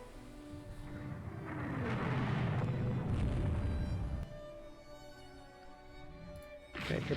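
A torpedo strikes a warship in the naval strategy game Rule the Waves 2, giving a deep rumbling boom that swells and lingers for a few seconds before fading, with a sharper burst near the end.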